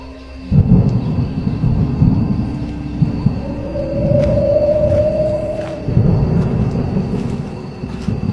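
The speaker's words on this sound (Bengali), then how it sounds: "ঝড় বৃষ্টি আরো বেড়েছে।" A night thunderstorm with rain: deep, loud rolling thunder rumbles continuously over a wash of falling rain, with a long drawn-out swell in the middle.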